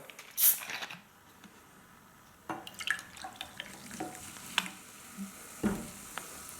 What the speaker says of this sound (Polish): Do drugiego naczynia wlewamy kole.